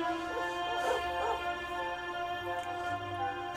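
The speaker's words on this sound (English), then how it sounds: "Look at the dog." A dog in the video game Dragon Quest XI gives a few short yips and whimpering barks over steady background music with a sustained tone.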